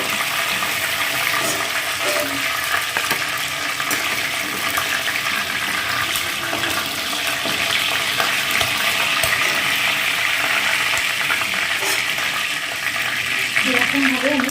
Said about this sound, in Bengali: একই রকমভাবে সব কটা চিকেনের পিস আমি ভেজে নিয়ে তোমাদের দেখাচ্ছি।